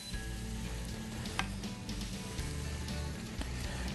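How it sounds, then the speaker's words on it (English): Ham stock hitting a hot pan and sizzling, a steady broadband crackle held close and loud for the whole stretch, with a few sharper spits and scrapes on top and no voices. "Start scooping some of that ham stock into the pan here."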